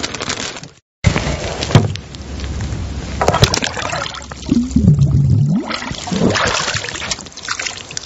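Water trickling and pouring as a sample is drawn at a shallow runoff-testing station near an airport, with uneven splashing and dribbling sounds up close and a few knocks and handling noises.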